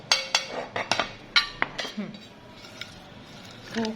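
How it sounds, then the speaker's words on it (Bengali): Utensils clink against plates as food is served onto two plates in a home kitchen while mashed egg bharta is prepared, a run of sharp close metallic taps and scrapes that thins out toward the end. "দুই প্লেটে তুলে নিই"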